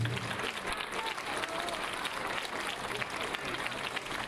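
Applause from an audience follows a traditional Scottish folk piece played on bagpipes at a concert by an Alpine brass band, with steady, dense clapping filling the room throughout.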